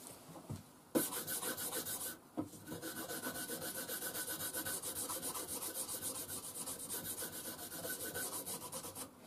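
Blade being sharpened on abrasive paper, a loud raspy rubbing with fast regular back-and-forth strokes, briefly interrupted twice early on, then continuing steadily.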